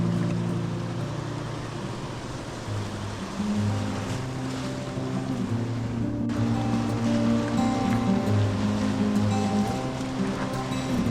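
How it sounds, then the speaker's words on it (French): Big waves surge and break around a sailboat at sea, a loud, continuous rush of water with wind buffeting the microphone and no break for the whole stretch. "Les vagues étaient vraiment grosses"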